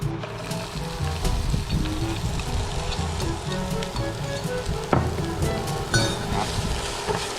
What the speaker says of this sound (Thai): แล้วเดี๋ยวเราค่อยๆผัดจนตัวของหอมใหญ่เนี่ยเหลืองนะครับ